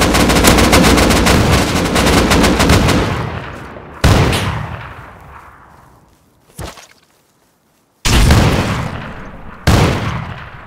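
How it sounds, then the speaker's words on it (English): Shotgun blasts in the Rust video game, several loud, close booming shots, each followed by a decaying tail and separated by gaps, with a rattling rapid-fire stretch at the start. "I just hit him with 3 shotgun shells and got killed"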